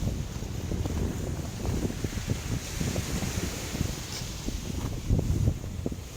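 Steady roar of strong wind buffeting the microphone at a campsite on a rainy night, with low rumbling gusts throughout and no voices.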